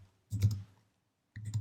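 Two short bursts of clicky keystrokes on a computer keyboard while entering a parameter name in Fusion 360 CAD software, close and fairly quiet, separated by a second of silence.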